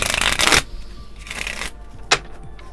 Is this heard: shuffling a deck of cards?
yes